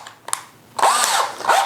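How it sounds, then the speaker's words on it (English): Short bursts of a screw gun fitted with a drill bit whirring up in pitch as it drills a dry terracotta clay sculpture, a brief start followed by a longer drilling run, close and loud. "A screw gun with a drill bit."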